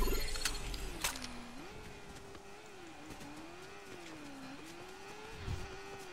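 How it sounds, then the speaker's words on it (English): Motorcycle engine in the Fortnite video game, a steady mid-pitched drone that rises and falls in gentle waves as the throttle shifts, with faint game effects and occasional thumps around it, fairly quiet overall. "I hear a motorcycle."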